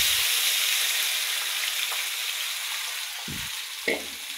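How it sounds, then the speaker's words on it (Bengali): Marinated meat fries with onions already browned in the pan, giving a steady, loud hiss of hot oil throughout with a few brief stirring clunks near the end. "এখন আমি এই যে মেখে নেওয়া মাংসগুলো দিয়ে দেব।"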